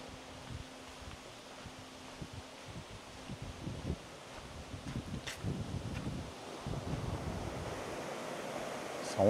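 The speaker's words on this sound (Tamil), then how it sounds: "இப்போ ரீசனாக நல்லா மழை பெஞ்சிருக்கிறதுனால ஃபால்ஸ் மாதிரி ஊற்றுதுங்க." Waterfall in the Parambikulam forest, swollen after heavy rain, pours as a steady broadband rush with faint low knocks and rustles scattered through it, moderately near and with no voices.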